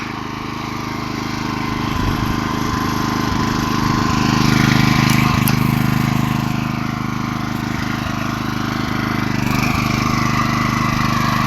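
Small garden tiller or walk-behind cultivator engine running steadily while re-ploughing garden soil before potato planting, a loud continuous mid-pitched drone with slight surges, close by and without talk.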